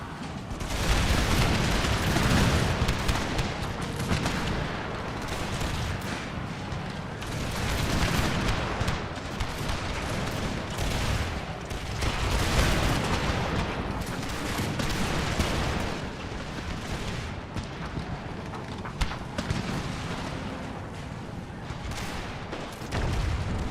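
Musket volleys and cannon fire in an Empire: Total War battle with pikemen, a continuous roar of overlapping crackling gunshots and deep booms rolling on in dense, loud waves.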